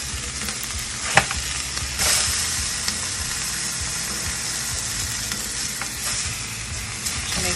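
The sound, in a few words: meat searing in a pan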